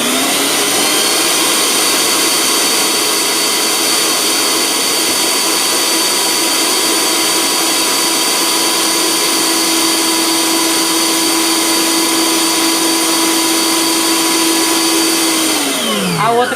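A stand mixer beats sponge cake batter at speed 1 with a steady loud whirring motor drone. It runs unbroken, then winds down at the end.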